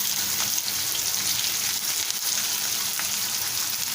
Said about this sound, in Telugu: ఇప్పుడు ఈ ఆనియన్స్ లైట్ బ్రౌన్ వచ్చే వరకు ఫ్రై చేసుకుందాం